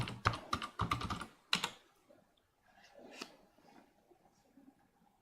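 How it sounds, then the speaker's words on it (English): Fast clattering keystrokes on a computer keyboard entering a sudo command and password in a Linux terminal, a quick run of close, crisp taps ending in a final firm key press, followed by faint quiet clicks. "open your terminal, type in sudo space, paste that command, enter, type in your password"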